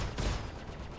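Spaceship guns firing in Star Citizen, a short burst of rapid, booming shots with a loud opening blast that trails into quieter rumbling, with no voices.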